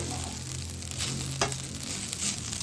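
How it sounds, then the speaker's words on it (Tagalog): Maling luncheon meat fries in a little oil, letting out a steady close sizzle with a faint scrape or two from a utensil over a couple of seconds. "At magpiprito na tayo ng ating maling."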